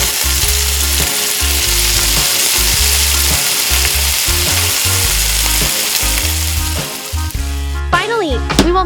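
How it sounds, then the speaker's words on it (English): Fish fries in a pan with a large amount of cooking oil, a loud, dense, continuous sizzle close by, with faint background music underneath. "Drop the fish into the pan. Fry both sides until golden brown,"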